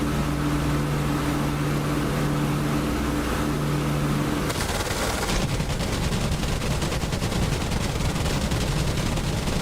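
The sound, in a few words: aircraft gun firing in DCS flight simulator video game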